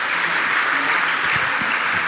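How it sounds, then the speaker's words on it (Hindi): An audience applauds at a Jain religious gathering at Gunayatan, Sammed Shikhar ji. The clapping is a dense, loud, continuous wash of many hands, heard close and without pause. "एक बार जोरदार करतल ध्वनि से"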